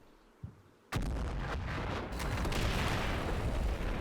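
Mortar rounds land in the Cold War combat game, one sharp impact followed by a heavy, sustained rumbling barrage of blasts that stays loud and continuous to the end.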